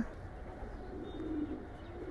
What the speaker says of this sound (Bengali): তো এই যে কবুতরটা